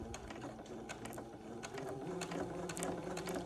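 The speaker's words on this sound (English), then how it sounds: "I'm sewing right next to the entredot on" Sewing machine stitching beside entredeux on batiste for an heirloom baby garment, a soft, steady mechanical patter of rapid needle strokes, running alone and close throughout.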